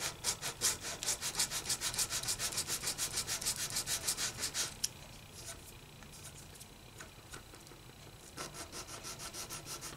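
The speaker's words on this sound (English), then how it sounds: "Now I can go back over that with some sandpaper." Sandpaper rubs over binding on a Gretsch guitar in quick, rhythmic back-and-forth strokes, fairly close and steady for about five seconds, then a quieter pause before the strokes start up again near the end.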